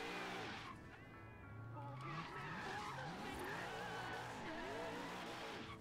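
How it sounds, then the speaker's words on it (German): Audi A5 in the Forza Horizon 3 racing game, its engine note rising and falling through gear changes alongside screeching tire skids, loud and continuous throughout. "das ist der Sound vom A5."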